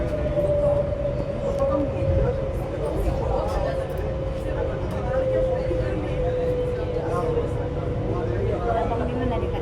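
Steady rumble of a moving train in Kuala Lumpur near Bukit Bintang, a continuous low drone with a faint tonal whine running throughout, with people talking softly underneath.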